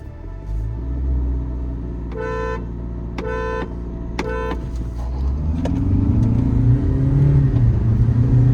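A Kia Seltos and a Honda Elevate accelerate hard in a drag race, engines building from a low rumble into a loud, rising rev, with a few short horn toots heard early on.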